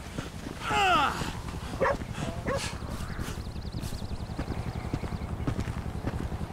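A dog in GTA V gives whimpering, yipping barks over a steady rhythmic clip-clop and a low rumble of game sound, with faint talk in the background.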